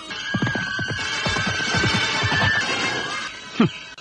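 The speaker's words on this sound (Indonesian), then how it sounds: "penunggang kuda itu sudah semakin dekat" A horse whinnies loudly amid a busy clatter of hooves and scuffling, with a sharp knock near the end.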